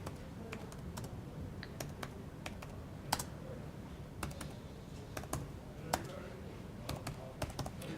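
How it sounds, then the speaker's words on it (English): Typing on a computer keyboard, a quick, uneven run of light key clicks over a low background hum, close and steady for several seconds with no voice. "So I'll just type in"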